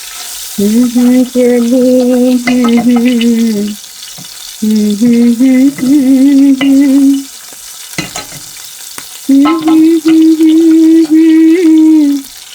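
Tengra fish heads fry in a pan at home, frying apart from the rest of the spicy curry. Loud, close sizzling runs in bursts under a strong humming tone, and someone briefly speaks.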